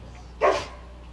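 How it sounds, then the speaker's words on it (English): An aggressive dog lets out a single loud, close bark as it bites an animal control catch-pole cable, with quiet surroundings before and after. "the dog bit it and, caught the cable in its mouth"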